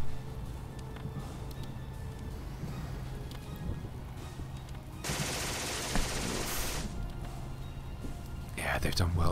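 Sustained gunfire in the video game The Troop, a dense burst of long-range shooting swelling loud for a couple of seconds midway over a steady bed of game ambience, with faint talk beneath.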